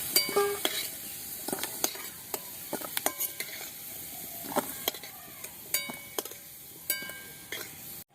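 Potatoes frying in a pan until reddish-brown, a soft sizzle broken by frequent sharp clinks and scrapes of a metal spatula against the pan, close and quiet, with no talking.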